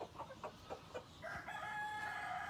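Chickens of a five-toed breed clucking in short bursts, then a rooster's sustained crow rising over them, close and clear with no talk.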